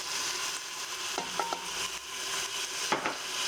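Chopped tomato and green chili drop into a frying pan of chana dhaal over medium heat, a steady close sizzle with a few soft knocks and stirring scrapes.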